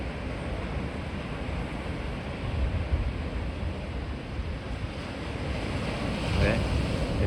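Ocean surf breaking on the shore in Sydney in July, a continuous broad roar of waves mixed with gusty wind buffeting the microphone, swelling slightly toward the end.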